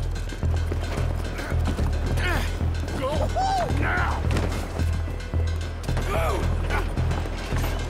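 A trolley rolls along in Red Dead Redemption 2 with steady mechanical rumbling and rhythmic clip-clop of horse hooves, creaks and ratcheting, loud and close under music and game voices.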